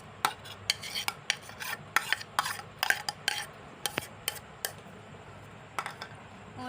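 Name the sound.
stirring tomato into pakoras in a pan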